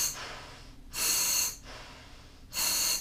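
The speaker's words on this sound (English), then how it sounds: "now if I wanna use it, I just grab it and breathe from it" Breaths drawn through the regulator of a Dixie Divers bailout pony bottle kit: two loud hissing inhalations separated by quieter exhaling, close to the microphone with no talk.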